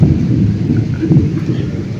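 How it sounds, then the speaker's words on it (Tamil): Heavy rain pouring outside a window during a thunderstorm, a loud dense low roar with rumbling thunder mixed in, steady throughout the short stretch. "பார்த்தீங்களா, இடியோட மழை பெஞ்சிட்டு இருக்குது."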